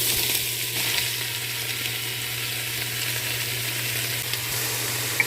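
Garlic, onion and vegetables sizzling in a pot for mushroom curry, a loud, steady hiss of frying that holds without break and has no talk over it.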